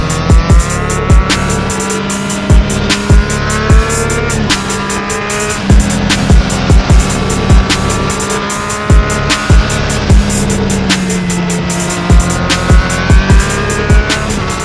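An engine roars steadily at high revs, with sharp rhythmic clicks and thumps throughout, loud and close.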